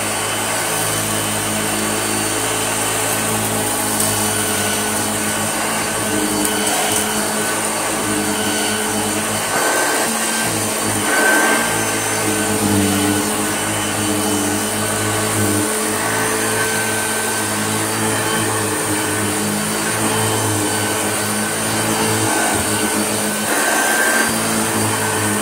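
A restored Hoover Junior 1354A Dirtsearcher upright vacuum cleaner runs on carpet with a loud, steady motor whine and beating-brush hum, with slight shifts as it is pushed along.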